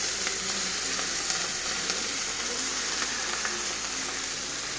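Amaranth leaves with curry leaves frying in a hot pan, a steady close sizzle that holds evenly throughout with no voices.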